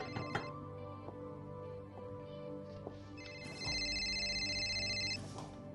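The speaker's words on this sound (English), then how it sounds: "Is this Tanya's phone?" An electronic ringtone trills from a phone, with a repeating melodic pattern and a louder burst near the end, no voices present.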